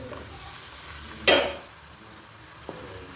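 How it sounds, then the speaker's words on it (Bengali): Chicken pieces dropped into hot oil with ginger-garlic paste give a loud burst of sizzling that swells and fades over a second, over a low steady frying hiss, with a small clink near the end. "আদা রসুন বাটা দিয়ে দিয়েছি, এবার চিকেনটা দিয়ে দেবো।"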